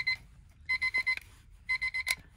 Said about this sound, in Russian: Будильник.